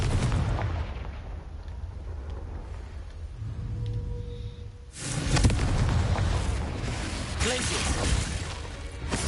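Fire-spell explosions in the wizarding video game Hogwarts Legacy: a dense, noisy blast swells in about halfway through and carries on loud to the end, over a low rumbling bed, with a voice heard at the start.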